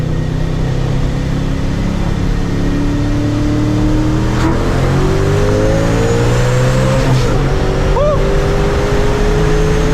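A loud Procharger-supercharged Mustang engine revs hard and climbs steadily in pitch as it accelerates, with a brief gear change near the end, close and continuous.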